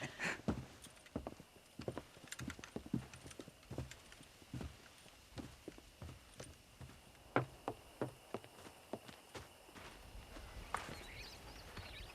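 Horse hooves clip-clopping in the Red Dead Redemption video game, a quick run of sharp, distinct hoofbeats in an uneven walking rhythm, fairly close and clear over a quiet background.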